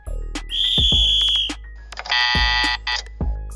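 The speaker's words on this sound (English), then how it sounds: "Say goodbye to rough hits and hello to the Buzz Off Buzzer" A loud electronic buzzer blares in a few harsh bursts, with dull thuds in between.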